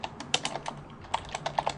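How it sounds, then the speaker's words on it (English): Keystrokes on a computer keyboard tap out search keywords in quick irregular bursts, close and fairly quiet, with no voices. "I can go ahead and start typing in keywords."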